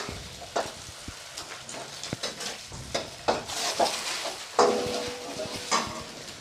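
Egg is being stirred into noodles in a hot pan for mie nyemek in a Jogjakarta kitchen: a low sizzle sits under repeated metallic scrapes and clanks of a spatula against the pan, arriving in a quick irregular rhythm, close and clear.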